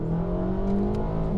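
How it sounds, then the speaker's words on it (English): A four-cylinder Honda Accord or Acura TLX sedan engine revs hard toward the red line, a loud, steady rising engine whine heard close up and alone. "Up to the red line. Engine sounds pretty good for a 4-banger for sure."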